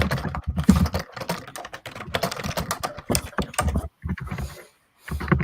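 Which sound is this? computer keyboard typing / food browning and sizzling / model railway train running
computer keyboard typing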